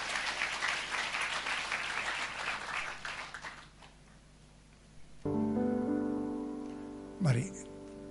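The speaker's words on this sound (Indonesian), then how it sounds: "Kita berikan tepuk tangan buat Tuhan." Congregation applause at an Indonesian church service, a dense burst of many hands that thins out over about four seconds, followed by sustained music with a voice over it.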